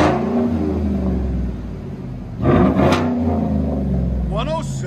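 Chevy Tahoe or Suburban with a 5.3L V8 and straight-pipe exhaust, a loud, steady, deep rumble close by that swells louder partway through, with people talking over it.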